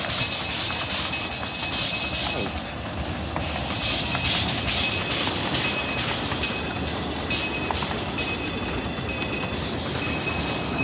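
A miniature zoo train rumbles steadily along with a continuous rolling hiss and clatter, fairly close, with no voices.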